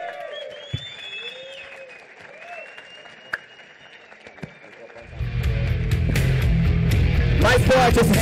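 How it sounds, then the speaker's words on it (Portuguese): Applause from a seated business-conference audience greeting a marketing speaker bursts in partway through, loud and sustained clapping after a quieter stretch of music and stray noises. "E de pé, uma salva de palmas pro último que lutou o dia inteiro pra estar aqui."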